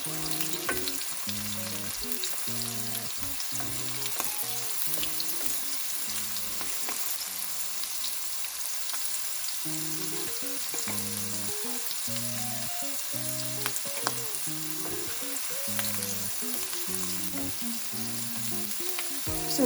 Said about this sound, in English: Then I'm also adding my ginger and garlic. Then stir fry it a bit.